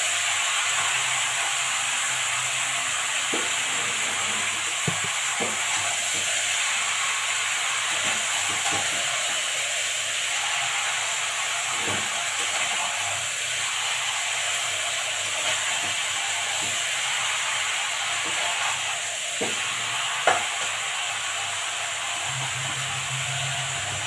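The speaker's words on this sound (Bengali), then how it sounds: "দিয়ে কিন্তু নেড়ে নিচের মশলাগুলোকে পুরো ওপরে তুলে দিতে হবে" Village-style desi chicken fries with onion, garlic and spices in hot oil, giving a continuous hissing sizzle broken by scattered scraping clicks as the pieces are stirred, steady and close throughout.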